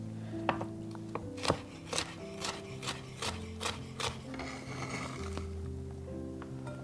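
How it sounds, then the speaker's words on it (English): A knife cuts red and yellow bell peppers into thin strips on a board, making a steady run of crisp, evenly spaced chops over a sustained tonal background. "So we slice 2 bell peppers into thin strips"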